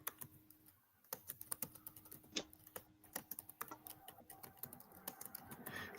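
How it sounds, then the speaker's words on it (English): Fingers tap quickly on a computer keyboard at close range, with irregular bursts of crisp clicks and short pauses and no voices. "I'm just typing out the question"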